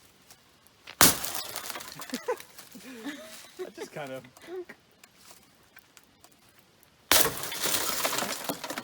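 A bat smashes a car window, giving a sharp, loud crack of breaking glass. After several seconds of talk and scattered debris sounds, a second heavy smash follows and crumbling glass trails off. People talk throughout.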